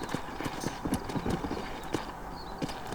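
Horse hooves clip-clop at a brisk, even trot in the Red Dead Redemption video game, the close, rhythmic thuds continuing throughout with no voices over them.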